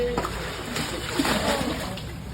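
Water being bailed out of a flooded house splashes and sloshes nearby in a steady rush, with people talking during it.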